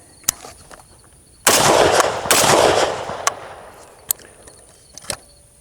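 An FN FAL rifle fitted with a Belgian muzzle brake fires two loud, close shots about a second apart, each with a roaring blast that decays over a second or so, followed by faint clicks.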